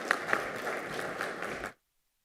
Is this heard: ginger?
no